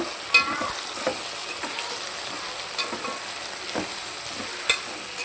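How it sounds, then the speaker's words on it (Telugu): Tomatoes with turmeric sizzle steadily in a pan while being stirred, a constant frying hiss broken by a few sharp scrapes of the spoon, close and alone without talk, while cooking a Tamil Nadu-style potato, okra and brinjal tamarind stew. "ఇప్పుడు టమాటా వేసినాక కొంచెం మగ్గిద్దాం పసుపు వేసి వేసుకుందాం మనము మంచి కలపెట్టేసుకుందాం మనము"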